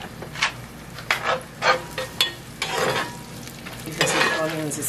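Onions frying for cauliflower fried rice, a steady close sizzle in the pan broken by repeated scraping stirs of a utensil, with no talking.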